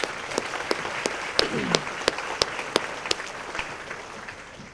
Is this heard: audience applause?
yes